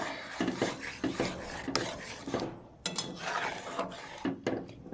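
A spoon scrapes and knocks around a pot as water is stirred into dal, steady rasping strokes with occasional sharp metallic clinks, close and alone without talk.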